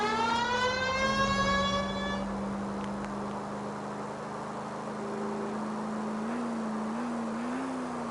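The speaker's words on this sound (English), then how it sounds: "You know we've got a siren, Phelps." A police car siren wails in the video game L.A. Noire, a loud rising tone that gives way to a steady drone mixed with engine rumble and road noise.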